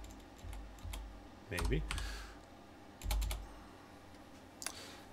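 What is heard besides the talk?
typing on a computer keyboard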